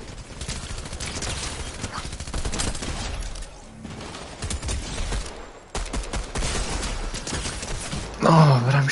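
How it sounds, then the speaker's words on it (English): Gunfire during a video game shootout, dense rapid bursts of shots that run almost without a break and stay loud and close, with a brief lull midway and a sharper hit near the end. "Oh, but I'm shooting you, though"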